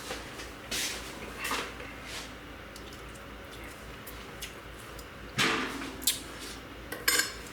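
A spoon is picked up in a home kitchen, with a few brief metallic cutlery clinks and dish knocks scattered across a quiet room background, the loudest pair near the end.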